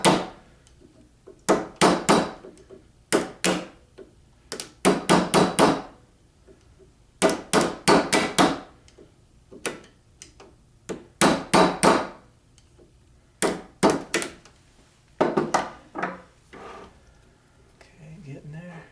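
A hammer strikes a lock washer to bend it over a nut on an MGA/MGB three-synchro gearbox, in sharp metallic taps that come in short bursts of several quick blows separated by pauses, close and clear, with occasional quiet speech.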